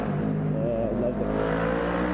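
Motorbike engine revving in busy Sydney traffic, a close, steady rumbling drone with a brief rising rev in the middle, heard alongside traffic noise.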